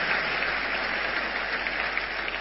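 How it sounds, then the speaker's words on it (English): A church congregation claps together during a healing service, a steady wash of handclaps holding evenly throughout the short stretch. "Somebody clap for Jesus."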